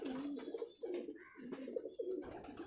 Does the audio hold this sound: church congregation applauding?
no